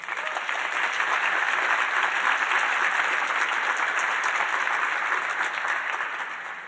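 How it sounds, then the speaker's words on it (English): An audience at a foreign-language education open house keynote claps in a steady round of applause for named staff, even and moderately loud, tapering slightly at the end. "Please give them a round of applause."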